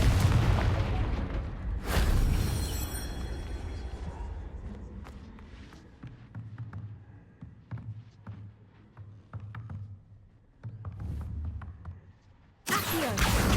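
Confringo blasting spells firing in Hogwarts Legacy, a loud booming burst up front followed by several sharper cracking impacts and rumbling, with a second heavy blast at the end.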